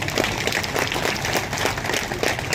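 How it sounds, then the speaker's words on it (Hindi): An audience at a political rally breaks into applause, dense steady clapping from a large crowd that stays loud throughout the short stretch. "तालियां थोड़ी कम बजी।"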